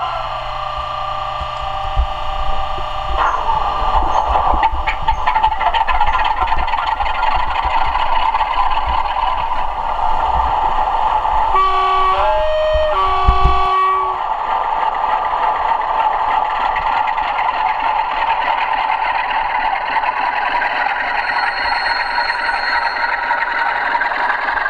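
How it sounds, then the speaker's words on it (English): A Bachmann Class 47 model locomotive's sound chip plays a diesel start-up sequence, with a shift in the engine tone early on and brief whistling tones partway through, before a steady idle that fills the rest. "The next model I'm going to demonstrate is the new Class 47 from Bachmann with a sound chip fitted. And you just listen to the sound of this as we start it up"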